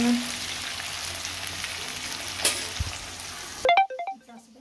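Chopped onion, potato and tomato sizzle in a pan as they are stirred, a steady frying hiss with a scrape or two, then it cuts off into a short run of electronic phone-like beeps.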